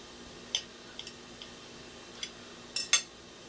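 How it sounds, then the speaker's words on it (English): Knife slicing into a crisp Southern fried pork chop from a cast iron skillet, giving a few faint, sharp crunching clicks and scrapes spread over a few seconds, with no talking. "let's go ahead and cut into this pork chop"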